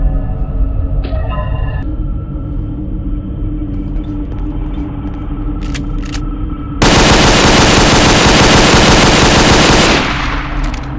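Sustained automatic gunfire rattles loudly in Garry's Mod on a FNAF 2 map, a dense burst of rapid shots following a stretch of low ambient rumble and a few mechanical clicks.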